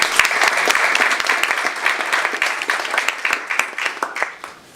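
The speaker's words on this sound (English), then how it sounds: "If you could please give them a quick round of applause." Brief round of applause from a panel audience at a young professionals' infrastructure event, close and lively clapping that holds for a few seconds and then thins out.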